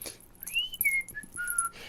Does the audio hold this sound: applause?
no